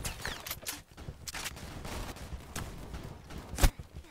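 Video game gunfire rattles in scattered bursts and single sharp shots, with one loud crack near the end and faint footstep-like shuffles between volleys.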